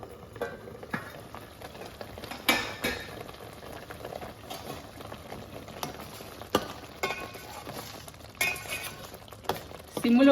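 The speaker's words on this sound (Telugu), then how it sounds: "ఆనియన్ పేస్ట్ని ఆయిల్లో ఫ్రై చేయడం వల్ల చేపల పులుసుకి మంచి రుచి వస్తుందండి" Onion paste frying in oil with curry leaves and chillies for a Telugu fish curry gives a soft, steady sizzle, with occasional sharp clinks of a utensil against the pan.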